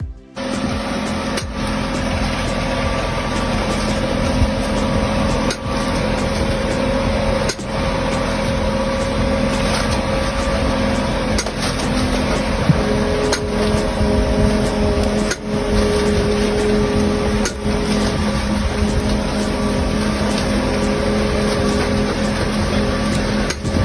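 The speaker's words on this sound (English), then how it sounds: "The T-shirt immersion system operates rhythmically, ensuring uniform dye absorption and consistent color patterns." A T-shirt dip-dyeing immersion machine runs with a steady mechanical hum and faint tonal whine, lifting hangered shirts vertically in timed motion; regular soft clunks recur every few seconds, loud and continuous with no talk.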